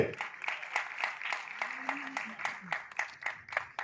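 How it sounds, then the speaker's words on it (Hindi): At an album launch event, a small audience claps for Rajeev in a light, evenly spaced pattern. The clapping is faint and fairly distant, with a voice speaking softly beneath it. "एक बार जोरदार तालियां राजीव सर के लिए।"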